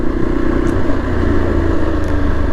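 A Yezdi Adventure motorcycle engine drones on a ride, loud, close and continuous, with a steady low rumble and faint wind rush over it and no voices.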